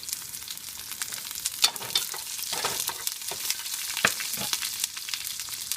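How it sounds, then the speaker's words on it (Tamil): Onion, a piece of cinnamon and two cloves fry in a pan for vegetable kurma, a moderate steady sizzle broken by repeated sharp scrapes and clinks of stirring. "வெங்காயம் ஒரு பட்டை ரெண்டு கிராம்பு"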